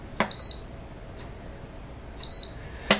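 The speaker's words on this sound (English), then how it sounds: "When you push the button in, it will beep" A Lomi home composter gives two short, clear electronic beeps as its button is pressed, spaced about two seconds apart with soft clicks around them, in a quiet room.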